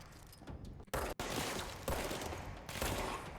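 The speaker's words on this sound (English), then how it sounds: "Shoot him one time like that, then the next headshot will be bam." Bursts of gunfire from the video game Control crack out in sharp, loud clusters, a quick volley near the start and then dense sustained shooting, with no talk.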